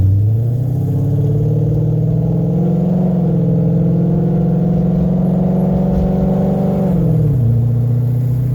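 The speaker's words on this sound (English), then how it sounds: "you'll hear the car shift" A steady, loud Coyote V8 engine hum in a Ford Fairmont holds its pitch, then drops noticeably near the end as the 6R80 automatic transmission shifts and revs fall.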